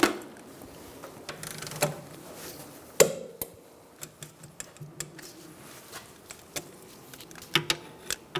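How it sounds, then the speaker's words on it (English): A torque wrench tightening the rear caliper bracket bolts on a 2002-2006 Honda CR-V produces scattered sharp metallic clicks and taps, one especially loud snap partway through, against a quiet garage background. "We're going to tighten up our bracket bolts first. I'm going to torque those to 41 foot-pounds."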